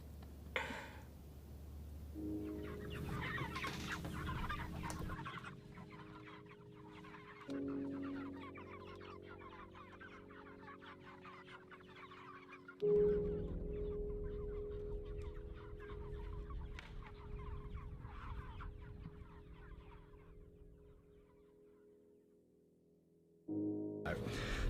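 Cornish cross meat chickens cluck steadily in a flock, a busy layered chatter of close and distant birds with a few louder calls, and no talk over it.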